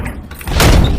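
Door slamming shut, a single heavy, loud thud that rings out briefly after a quieter rumbling moment, close by and without speech.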